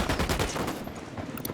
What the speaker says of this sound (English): I'm shooting these fuckers.